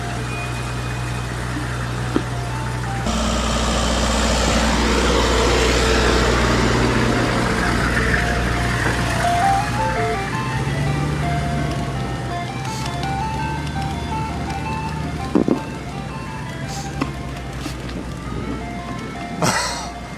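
An ice cream truck plays its looping chime melody over a low idling engine rumble, the tune strongest early on and then fading slightly as the vehicle moves along, with a few sharp knocks near the end.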